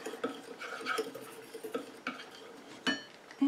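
A utensil clinks and taps against a bowl while solid hair care ingredients are mixed, giving light irregular knocks and scrapes at close range with no talking.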